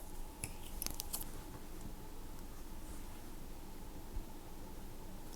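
A few quick, crisp scissor snips through yarn near the start, then a quiet steady background hiss with a faint click later on.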